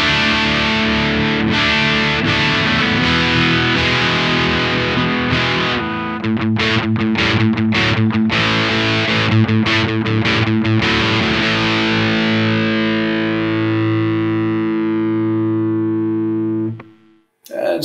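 A distorted electric guitar plays straight through a Behringer DI with its cabinet simulator, no speakers attached: loud sustained chords, then a run of choppy muted strums, ringing out and fading to near silence at the end.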